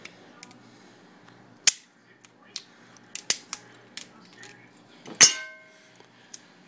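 Sharp clicks and snaps of a shellfish cracker breaking a crab claw shell from the sides, several scattered cracks with one louder crunch near the end, close up and quiet with no talking.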